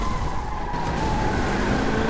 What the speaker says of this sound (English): Cars are crashing everywhere.